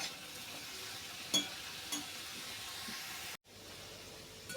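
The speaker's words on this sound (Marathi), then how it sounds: "अधूनमधून असं छान परतून घ्यायचं।" Sweet potato slices for halwa cooking over low heat, a faint, steady soft sizzle with a couple of light stirring taps and a brief drop to silence near the end.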